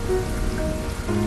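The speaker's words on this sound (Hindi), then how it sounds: "सवेरे से ही तेज बारिश हो रही थी।" Heavy rain pouring down as a dense, steady patter and hiss on surfaces, loud and constant through the short stretch, with a faint background tone and no voices.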